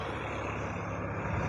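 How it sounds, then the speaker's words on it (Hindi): A Massey Ferguson tractor towing an Ashok Leyland 3718 truck with one fully flat tyre, a steady low engine drone and rumble holding evenly throughout, close and continuous. "ट्रैक्टर खींच रहा है मैसे फर्ग्यूसन"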